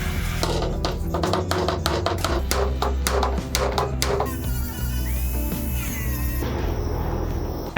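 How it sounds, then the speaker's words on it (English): Rapid metal hammer strikes on a wrecked Lamborghini's body panels, heated and beaten smooth, ring out in a dense run for about four seconds, then give way to a steady workshop drone with a faint whine. "Each dent is heated, hammered, and smooth."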